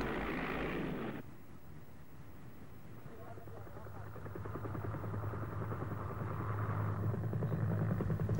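A Mi-8 helicopter's steady rotor thrum and engine drone hold throughout, growing slightly louder toward the end, with no talking heard.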